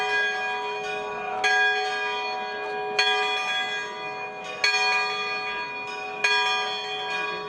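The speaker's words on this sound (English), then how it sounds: "the sound of church bells echoed around the western Catalan village of Os de Balaguer" Church bells ring in the western Catalan village of Os de Balaguer, clear strikes at roughly regular intervals, each tone lingering and overlapping the next.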